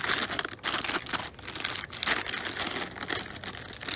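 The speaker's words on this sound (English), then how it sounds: "Plastic bags and the food's in it" Plastic bags holding food crinkle and crumple steadily up close, in continuous rustling bursts with brief pauses, on a hilly mountain outing where the packaging has been compressed by pressure changes.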